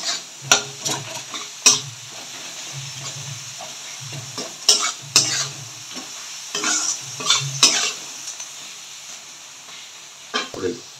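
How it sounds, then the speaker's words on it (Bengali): Turmeric, salt, onion and garlic being stirred in hot oil, a steady sizzle with repeated scraping strokes of a spatula against the pan, close and fairly loud, no talking. "হলুদ, স্বাদ অনুসারে নুন ভালো করে মিশিয়ে নেব তেলের সাথে। হলুদ, নুন, পেঁয়াজ আর রসুনটাকে"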